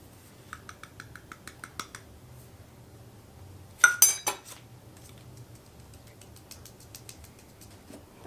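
A spoon tapping and scraping a bowl as Dutch cocoa powder goes in for brownies: a row of light, even clinks, then a brief cluster of louder metallic knocks, with quieter taps trailing off.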